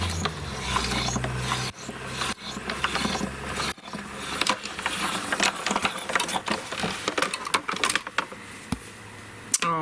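A Spellbinders Platinum 6 die-cutting machine being cranked, close mechanical ratcheting and rolling clicks with irregular rubbing and clunks, fairly quiet and continuous.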